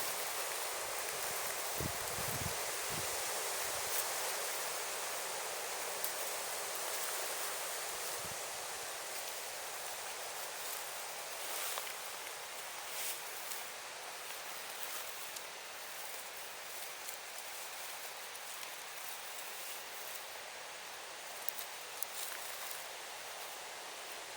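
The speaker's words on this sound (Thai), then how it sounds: "ลมแรงมากเลย" Strong wind sweeps through a forest near a village where yellow mushrooms grow, making a steady broadband rushing hiss of rustling leaves that continues for a long stretch with occasional small crackles and gusts.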